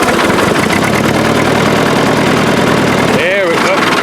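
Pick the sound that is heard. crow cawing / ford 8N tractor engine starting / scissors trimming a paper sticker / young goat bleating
ford 8N tractor engine starting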